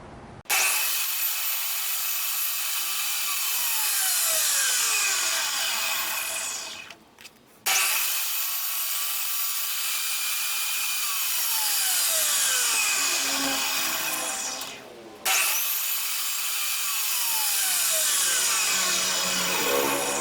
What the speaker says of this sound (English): I'm going to go ahead and use my table saw.